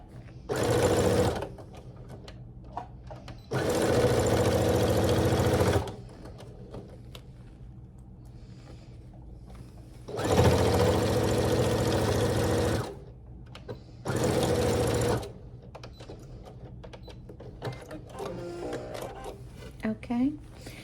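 Sewing machine stitching tote bag fabric pieces together, running in four loud bursts of steady whirring separated by quiet gaps with handling noises.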